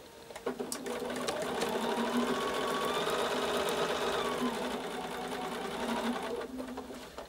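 A sewing machine stitches a seam on a windmill quilt block, running steadily for about six seconds with a close, even mechanical hum and rapid needle rattle, with no voices.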